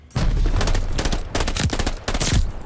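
A STEN submachine gun fitted with a burst attachment fires in a video game, with loud, close, rapid bursts of shots in three long strings broken by brief pauses.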